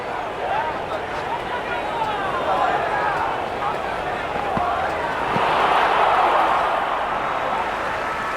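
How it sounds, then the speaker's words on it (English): Dense buzz from a crowded cricket stadium at an India versus South Africa T20 match carries on steadily and rises a little toward the end, with a commentator speaking over it. "There's a buzz, a real buzz coming from the stands."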